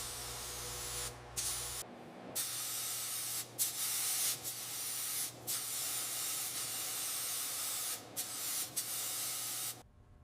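Primer coat being spray-painted onto a 1901 Georges Richard car during restoration, a close, loud hissing spray in repeated bursts separated by short pauses, with no voices.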